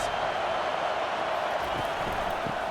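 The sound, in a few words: stadium crowd roaring for the defense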